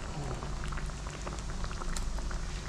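A pot of okra and chili simmers at a full boil, giving a dense, steady bubbling and popping that stays close and continuous throughout.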